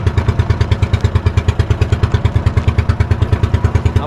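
An old boat engine on a fishing outing chugs steadily with a rapid, even thumping beat, loud and close, with no talk over it.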